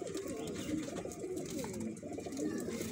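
Pigeons coo continuously in a dense, overlapping chorus, apparently a loft of high-flying pigeons kept in Pakistan, close and steady throughout with no talk over it.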